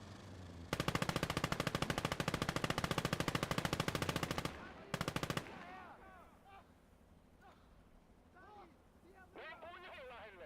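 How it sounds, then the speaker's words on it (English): Rapid, loud machine gun bursts from the WWII-era game Gates of Hell: Ostfront, a long sustained volley then a short second burst, followed by quieter battlefield ambience with a voice talking. "I wasn't worried about that machine gun"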